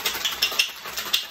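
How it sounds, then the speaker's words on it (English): Ice rattling in a metal cocktail tin during a shake, a quick run of bright clattering hits, close and clear, with no voices. "Add ice to our tin. Shake."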